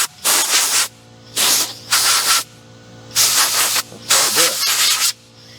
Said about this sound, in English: Set our air filter down. Just use the air hose here.